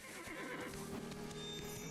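A horse whinnies in the game Black Desert, a quavering neigh mixed with soft hoof clip-clops, fairly quiet and close, with no talk over it.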